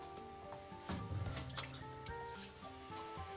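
Water poured from a container into a cooking pot during soup making, a steady close splashing pour that swells briefly in the middle, with no talking.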